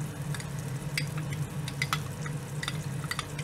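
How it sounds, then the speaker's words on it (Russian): A spoon stirs sour cream thinned with water in a bowl, producing quick, irregular wet scrapes and clicks over a low steady hum, close and fairly quiet, with no talking. "Разводите вот эту сметанку"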